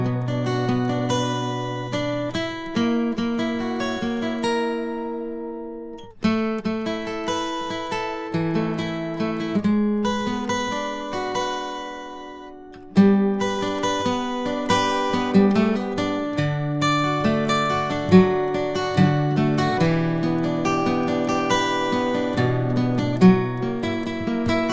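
Guitar played through an octaver to imitate a 12-string plays a song intro, arpeggiated chords ringing out for about 25 seconds, with a brief pause near six seconds and alone without talk.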